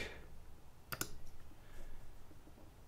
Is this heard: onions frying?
no